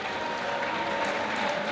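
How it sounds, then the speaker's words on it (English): Steady, dense clapping from a sizable crowd at a university career day event, sustained applause at an even level throughout. "Big round of applause."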